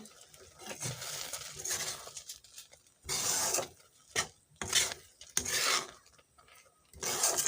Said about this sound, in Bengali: সবগুলো ঢেলে দিলাম এবার ভালোভাবে মিক্স করে নেব